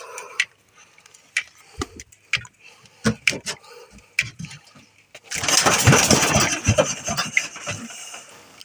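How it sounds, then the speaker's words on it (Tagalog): A boat engine is pulled and sputters through several short bursts, then catches and runs loudly and steadily at close range. "Si Papa nagpaandar ang makina."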